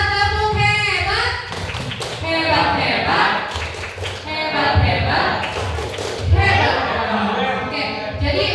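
A group performs a rhythmic clapping cheer during a teachers' workshop at a junior high school, with quick patterned claps and thumps blending with voices that chant along.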